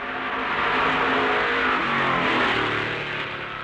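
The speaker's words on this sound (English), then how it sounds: "Fireball warms up his Ford," Fireball Roberts' Ford Grand National stock car revs loudly and continuously up close at Darlington, its engine note climbing and holding with rough harmonic drone and no talk over it.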